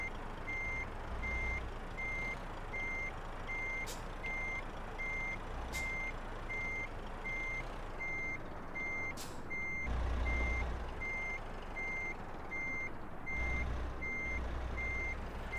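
Steady, evenly spaced reversing beeps from a truck backing a trailer in Euro Truck Simulator 2, sounding over a low engine rumble with occasional brief higher hisses, no voices.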